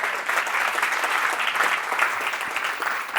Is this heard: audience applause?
yes